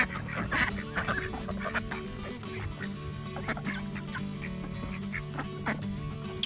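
A flock of backyard chickens is fed on a country property in Tasman, New Zealand, with a dense, continuous mix of close clucks and squawks and no clear talk.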